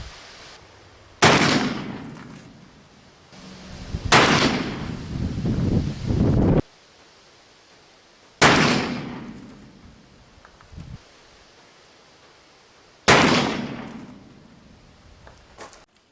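Four loud, sharp reports from an 1851 Pietta .44 brass-frame black-powder revolver fired outdoors, spaced several seconds apart, each followed by a fading rumble, with wind noise in between.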